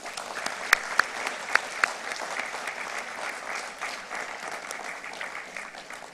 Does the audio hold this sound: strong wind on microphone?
no